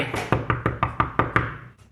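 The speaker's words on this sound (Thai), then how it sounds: "เวลาเราเคาะโต๊ะ ที่มันใกล้ ๆนะครับ" Knuckles knocking on a table right beside the microphone, seven sharp, evenly spaced raps in quick succession, loud and close with no talk.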